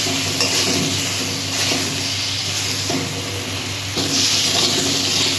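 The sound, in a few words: eggplant frying in a pan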